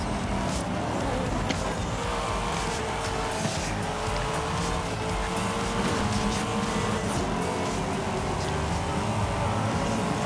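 Corvette Stingray race car in the Forza Horizon video game, a loud continuous engine roar with shifting revs and occasional tire squeal, sustained steadily throughout.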